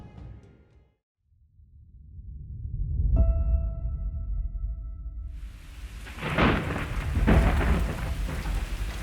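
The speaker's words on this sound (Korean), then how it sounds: "불길한 천둥 번개 소리에 놀라 깹니다" A thunderstorm with rolling thunder and steady heavy rain, starting with a low rumble, then a sharp crack and a growing downpour that stays loud to the end.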